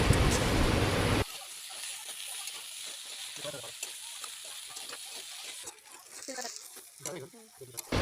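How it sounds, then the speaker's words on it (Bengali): Pasta with tomatoes and spices sizzles and fries in a pan while being stirred, starting with a loud burst of hissing that settles into a softer, continuous sizzle with occasional scraping, under a little background talk. "নিয়ে একটু রান্না করে নিতে হবে ভালো করে, বেশ ভাজা ভাজা মতো হয়ে যাবে।"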